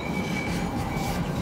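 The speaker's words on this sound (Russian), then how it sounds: "Трамвай приехал" A tram arriving at a stop in Istanbul in winter gives a steady, loud rumble of wheels on rails with a faint thin squeal running through it, and no voices.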